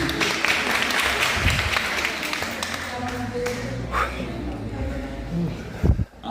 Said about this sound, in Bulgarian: събрание аплодисменти за Ники.